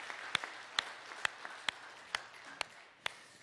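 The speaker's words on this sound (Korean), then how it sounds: "박수로 격려하며 하나님께 영광 올려드리겠습니다." A church congregation applauds with a soft wash of clapping. Crisp beats land at a steady, even rhythm on top, fairly faint and without speech.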